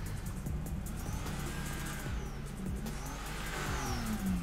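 A Nissan 180 drift car in the Torque Drift racing game, its engine droning and revving steadily with rising and falling pitch as it slides, continuous and moderately loud with no talking.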